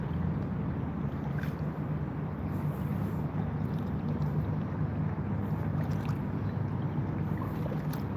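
Paddling a small boat along the Schuylkill River, a steady low wash of water and hull noise with faint splashes over light wind, continuous and fairly quiet with no talking.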